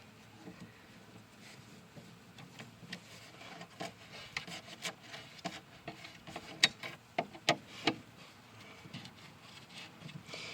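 Quiet rubbing and scraping of hand tools removing hardware from a wooden dresser, with scattered small clicks and a few sharper taps near the end.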